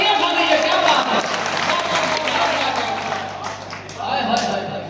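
Audience at a Hindi poetry recital breaking into sustained applause, a broad steady wash of clapping that swells again near the end.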